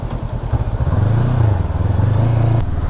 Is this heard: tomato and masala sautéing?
no